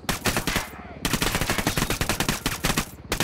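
Rapid automatic gunfire from a Ghost Recon Wildlands firefight aimed at a loudspeaker system, loud sustained bursts of shots with two short pauses, no talk over it.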